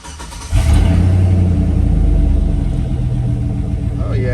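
A Chevy Silverado 5.3 V8 with a Carven R catback exhaust fires up with a sharp burst, then settles into a deep, loud, close rumbling idle that rises slightly as it is revved.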